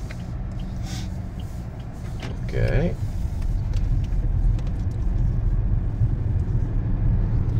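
A DR 5.0 1.5 turbo LPG automatic car pulls away from standstill, its engine rumble swelling midway and holding steady and close, with a voice speaking briefly over it.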